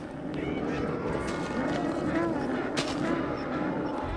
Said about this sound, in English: Is there a good explosion?